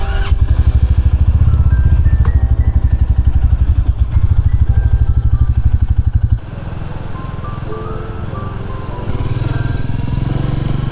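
A single-cylinder Royal Enfield motorcycle engine thumps steadily at idle, loud and close, with the beat easing and softening midway before picking up again.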